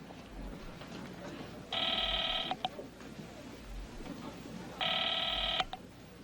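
A house telephone rings in two long, bright bursts separated by a pause, each with a brief click at its end, heard over a low room background.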